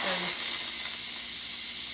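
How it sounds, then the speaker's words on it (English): Steam hisses steadily from a Pampered Chef Quick Cooker during manual pressure release, a loud continuous rush that carries on throughout. "Some steam comes up"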